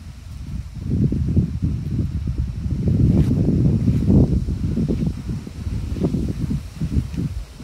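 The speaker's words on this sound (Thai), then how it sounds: "เสียงลมอาจจะแรงหน่อยนึงด้วยค่ะพี่น้องค่ะ" Strong gusty wind buffets the microphone outdoors during mushroom picking, a loud continuous low roar that rises and falls in surges across the whole stretch, with no talk.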